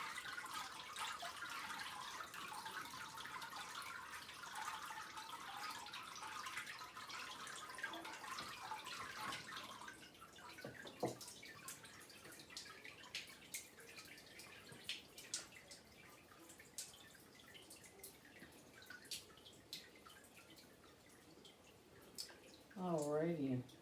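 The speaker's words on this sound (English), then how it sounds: "Let it drain." Water draining through a papermaking mold and deckle lifted from a vat of blue pulp after a Western dip, a steady trickling rush that tapers into scattered drips, with a voice speaking softly now and then.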